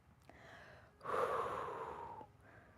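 Heavy breathing during an ab workout: one long, loud, forceful exhale with a gasping rush of air, between quieter breaths, close and alone.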